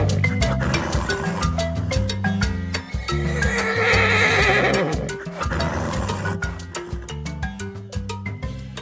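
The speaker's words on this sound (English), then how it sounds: "What sound does a horse make?" Horse whinnying in a children's animal sounds song, a loud neigh swelling in the middle with clip-clop hoofbeats, all over bouncy backing music.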